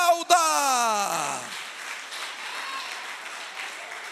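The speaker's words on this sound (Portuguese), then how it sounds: "Aplauda." Church congregation applauding: a steady wash of clapping rises after a sung or spoken tone fades, continuing evenly at moderate loudness.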